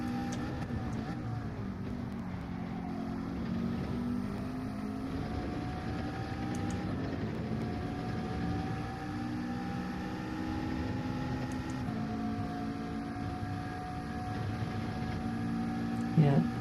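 A race car in Gran Turismo 7, driving a Manufacturers Cup event at Watkins Glen, holds a steady, loud engine drone with rising and falling pitch through the gears, continuous under the run.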